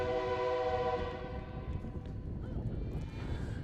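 A passing train near a baseball field sounds a loud, sustained multi-tone horn that fades away as the rumble of the rolling cars continues underneath.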